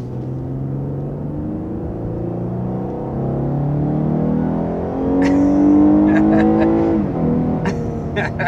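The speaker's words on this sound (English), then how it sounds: "you have that intoxicating, just naturally aspirated V6 sound that I love" A 2021 Lexus IS 350 F-Sport's naturally aspirated V6, driven in Sport Plus mode, revs up loudly and climbs in pitch, then drops back, with sharp clicks near the end.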